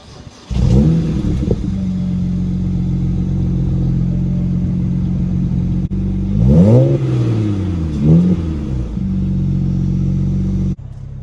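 A BMW E93 335i with the N54 engine and stock exhaust starts warm: the starter catches and the revs flare sharply, then settle to a steady idle drone. Mid-clip, two quick throttle blips rise and fall before the engine cuts off.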